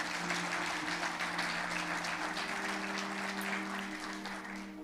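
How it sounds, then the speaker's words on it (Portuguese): A church congregation gives the Lord a loud, continuous round of applause, the clapping holding steady over a low sustained tone before easing slightly at the end. "Só quem recebe, dê um aplauso bem forte ao Senhor."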